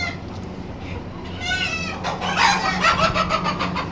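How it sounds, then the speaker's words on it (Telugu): Chickens crowing and clucking at an animal auction in Kuwait, with a goat bleating among them, close and fairly loud over a constant background hum. "ఇవి ఒక టైప్ ఆఫ్ కోళ్ళు."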